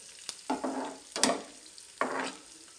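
Carrots and onions fry in a pan for a carrot fry, with soft steady sizzling broken by three sharp stirring scrapes of a spatula at close range, and no voices.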